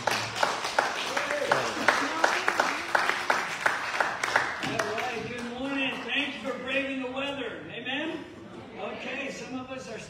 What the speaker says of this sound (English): let's give him a big applause because he's just amazing